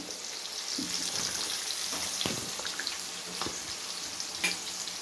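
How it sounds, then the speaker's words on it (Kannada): Capsicum and carrot fry in hot oil, giving a steady close sizzle throughout with a few soft stirring clinks and scrapes and no voices. "ಎಣ್ಣೆ ಹಾಕೊತಾ ಇದ್ದೀನಿ, ಕ್ಯಾಪ್ಸಿಕಮ್ ಹಾಕೊತಾ ಇದ್ದೀನಿ, ಫ್ರೈ ಮಾಡ್ಕೊತಾ ಇದ್ದೀನಿ."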